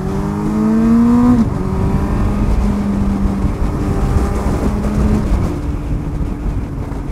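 A motorcycle engine and its modified exhaust rev hard and pull away, a loud, sustained rising-and-falling drone close by that eases slightly as the bike rides off.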